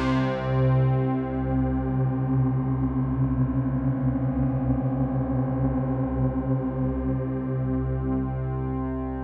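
An Omnisphere synth patch with Unison on and detune set to fine sustains a thick, slowly beating chord for about nine seconds, rich and steady with gentle shimmering movement throughout.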